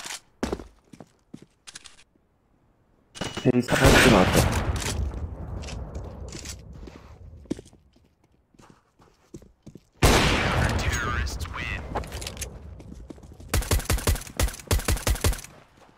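Gunfire in CS:GO, with quick bursts and single shots, two long roaring stretches of heavy fire, and a final rapid string of evenly spaced rifle shots, loud and close, separated by near silence.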